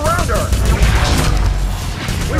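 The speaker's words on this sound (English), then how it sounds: "We can try to use the Spammer, Nilin's mid-range weapon." Nilin's Spammer, a mid-range energy weapon in the game Remember Me, firing loudly and continuously in a dense, noisy burst over constant battle sounds.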